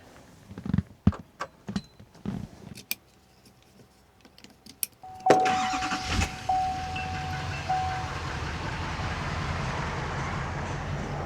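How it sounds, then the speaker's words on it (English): A pickup truck engine catches after a few clicks and thumps, then settles into a steady, fairly close idle that runs on alone, with a brief tone chirping over it early on. "I'll hook up the cable, start the truck, and then you'll see how fast the truck and Charger 1 can charge its power station."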